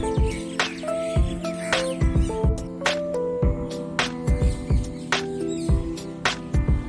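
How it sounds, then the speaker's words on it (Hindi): Birds sing and chirp in Lodhi Garden, a park with old tombs, with repeated bright calls and short trills close by over a steady background of other birds. "इस गार्डन की हरियाली भी बहुत खूबसूरत है और साथ ही ये खूबसूरत पक्षियों की आवाज़ें।"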